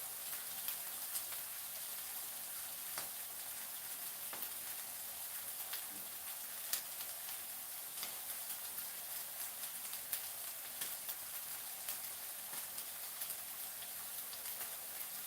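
Potatoes frying in a pan give off a steady, soft crackling sizzle with scattered tiny pops, fairly quiet and continuous, with no talking.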